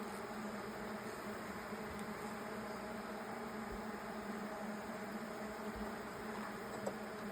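Honeybees buzz softly but steadily in an open beehive during an inspection, a constant close hum of many wings with a few small knocks now and then.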